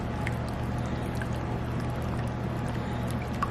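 Milk and heavy whipping cream poured over chicken strips in a bowl, a steady liquid splash and trickle running continuously at close range under a constant low background hum.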